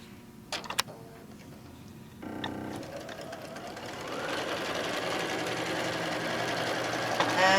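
A sewing machine stitches across the top of a tote bag panel at about half an inch, starting with a few clicks and then running faster and louder, with no voices.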